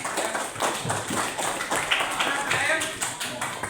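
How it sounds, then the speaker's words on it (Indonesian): A school class claps hands together at the end of a lesson, a steady mass of overlapping claps lasting several seconds at close range. "tepuk tangan dulu untuk pelajaran hari ini"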